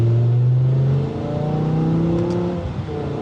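BMW M5 with a V10 engine revving around 2,000 to 3,000 rpm, loud raspy exhaust droning steadily close by, the pitch easing slightly after the first second and holding.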